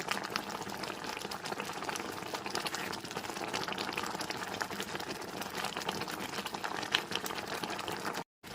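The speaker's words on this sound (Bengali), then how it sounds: "গ্যাসের ফ্লেমটা হাইতে করে দিয়ে চিনির রসটা সম্পূর্ণরূপে জাল করে নিচ্ছে" Sugar syrup with raw green mango boils hard over a high gas flame, giving a loud, steady bubbling fizz that runs without a break before a sudden brief cutout near the end.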